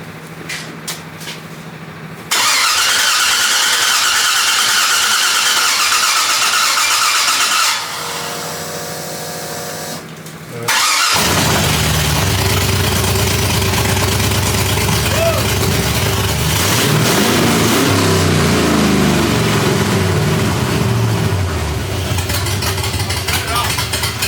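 An LS-swapped Ford Galaxie cranks, fires and settles into a loud, rough idle, then revs hard and holds a steady roar for a long stretch, close up.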